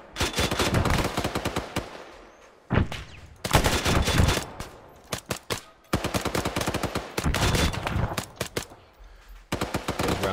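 Sustained automatic gunfire in Arma 3, loud, dense bursts of rapid rounds in several long volleys separated by brief pauses.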